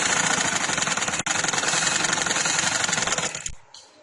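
A sewing machine stitching a cotton kids' frock runs in a fast, steady whirring rattle close by, pausing for an instant midway, then stops abruptly near the end.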